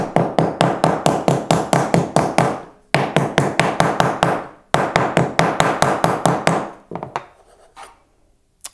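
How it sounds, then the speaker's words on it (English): A rawhide mallet pounds metal flat on a wooden block in rapid, even bursts of close, dull knocks, about a dozen blows per run across three runs separated by brief pauses, the last run tapering into a few softer taps. "This is a rawhide mallet, and I'm not just going to hit it in the center to flatten it, but I'm trying to work harden the metal."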